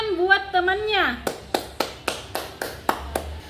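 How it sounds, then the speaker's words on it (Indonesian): Students in a classroom clap for their classmates in a steady rhythm of about nine crisp, evenly spaced claps, just after a voice speaks briefly. "Beri tepuk tangan buat temannya."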